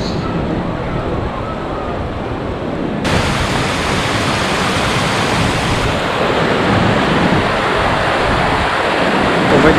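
Rawdon Cascade waterfall pours with a loud, continuous rushing roar that stays steady and broad throughout, with wind adding to the wash.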